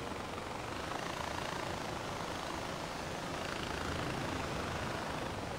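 A helicopter in Far Cry 4 produces a dense, steady rotor and engine wash, loud and unbroken throughout with no voices.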